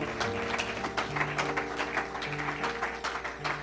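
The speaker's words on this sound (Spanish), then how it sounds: "un aplauso fuerte al Señor" Church congregation applauding strongly during an evening worship service, dense sustained clapping from many hands over a held musical drone from instruments.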